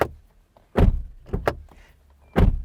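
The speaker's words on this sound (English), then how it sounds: "Now, what about our door? Let's have a listen." The door of a Chevrolet Silverado pickup truck shuts twice with loud, close thuds, with a softer clunk of handling between the slams.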